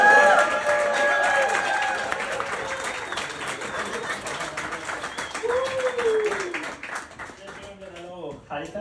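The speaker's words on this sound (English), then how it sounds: "Give a big round of applause for Rajaswami Nathan Varvan." An audience at a stand-up comedy show in Halifax claps loudly and steadily with some cheering, the applause slowly tapering while a voice talks over it.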